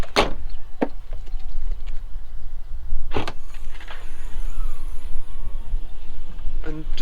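An Audi A2 rear hatch opens by remote key, lifted by a strut and red spring: close, sharp mechanical clunks and a brief electric whir, with a second latch clunk midway over steady background noise.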